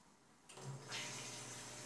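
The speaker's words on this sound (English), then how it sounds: "after that water goes through the UV filter and then returns" Water starting to run in a one-barrel apartment aquaponics system for tilapia, pumped through a UV filter back to the fish tank: quiet at first, then a sudden rise into a steady splashing flow that grows brighter and holds.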